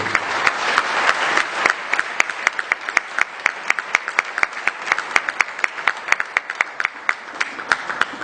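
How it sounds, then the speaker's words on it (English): Audience applause for governorship candidates at the Imo 2019 election debate: dense, steady clapping from a crowd that thins into scattered, distinct individual claps. "can we clap for the Excellencies, please?"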